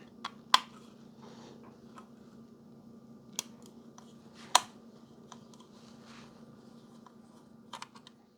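Small screws being backed out of a Radio Shack Uniden PRO 2050 police radio scanner with a screwdriver, heard as sparse sharp clicks and light metallic ticks close by over a steady low hum, with no talking.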